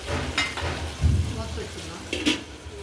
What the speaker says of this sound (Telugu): అల్లం వెల్లిపాయ పేస్ట్ పచ్చివాసన పోయేటట్టు వేయించుకోవాలి.